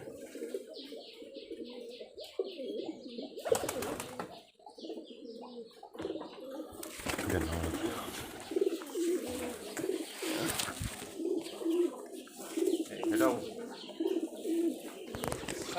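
Giribaz high-flyer pigeons, a local breed from Rajshahi, coo in repeated low rolling phrases close by, with a few sharp handling bumps and rustles breaking in partway through.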